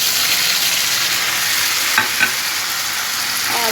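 Tomato slices going into onions already frying light brown in a pan, a steady broadband sizzle throughout with a couple of brief stirring clicks and splutters near the middle.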